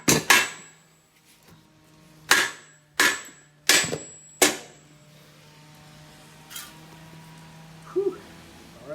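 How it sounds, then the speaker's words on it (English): A mallet drives BMR solid differential bushings into an S550 Mustang GT, with a quick double strike, then three more spaced blows and a lighter tap, close and sharp against a quiet garage background. "Just bang it in"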